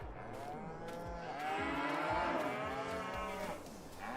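Cattle in Farming Simulator 22 moo repeatedly, several long, drawn-out calls overlapping at moderate distance, with no talking.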